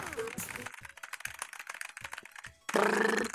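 Rapid clicky keystrokes on a computer keyboard rattle in quick irregular bursts close to the mic, then a louder burst of other sound cuts in near the end.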